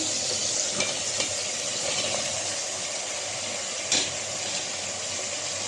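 Dried fish, potato and eggplant sauté with spices in a pan, a steady close sizzle with occasional stirring scrapes and a clack of a spoon partway through, with no voices.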